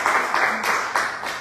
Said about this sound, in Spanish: Un gran aplauso a la doctora.